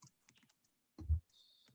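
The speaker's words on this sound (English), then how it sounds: "typing" Sparse keystrokes tapped on a computer keyboard during a team meeting: a few faint clicks, then one heavier thump, heard quietly in a near-silent room.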